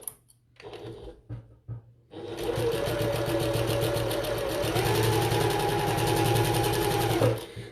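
A sewing machine bastes the side of a bucket tote, with a few short stitching bursts and pauses followed by a long, steady run of rapid stitching that stops at the end.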